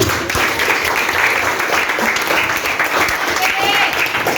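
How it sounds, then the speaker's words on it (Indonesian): A classroom group claps together at a school gathering, dense sustained applause close and loud, with voices faintly mixed in. "Tepuk tangan dulu sebelumnya."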